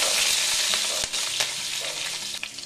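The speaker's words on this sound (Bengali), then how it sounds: "এবার আমি এই তেলের মধ্যে দিয়ে দিচ্ছি কালো জিরা, দিয়ে দেবো দুটো কাঁচা লঙ্কা" Nigella seeds and two green chillies crackle in hot oil, a dense steady sizzle with a few sharp pops and spoon scrapes, close and continuous with no talking.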